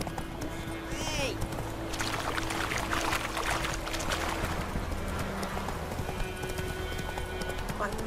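Roach the horse in The Witcher 3 gallops with rapid, steady hoofbeats throughout, a brief shout and spoken voices breaking in over the rhythm.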